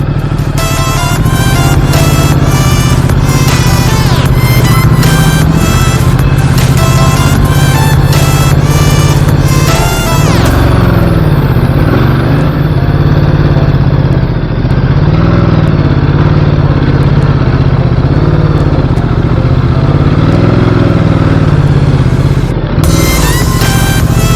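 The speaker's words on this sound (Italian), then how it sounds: "ci sono moto anche stradali che percorrono questo tratto" Motorcycles run loud and close on a dirt mountain road near 1,900 metres, with a steady engine drone under rapid rising and falling gear and throttle changes.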